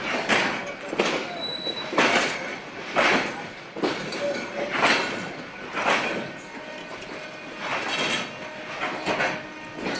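A train at Kamalapur railway station in Bangladesh, heard as rhythmic rail clatter with repeated bursts of wheel noise, each roughly a second apart, plus occasional high squeals. The sound is moderately close and continuous, with faint voices in the background.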